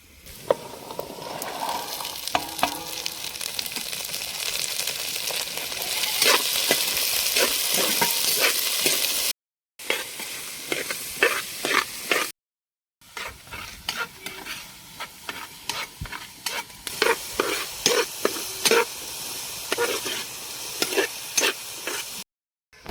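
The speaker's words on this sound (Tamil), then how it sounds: "நறுக்கி வச்ச சுண்டைக்காயை போட்டுக்கலாம்." Steady sizzling of chopped turkey berries frying in a pan, with stirring scrapes and clinks throughout and two brief silent breaks.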